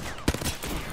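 Shotgun fire in Apex Legends, a single sharp loud blast with a quick follow-up report, close and punchy within a second of noisy game audio.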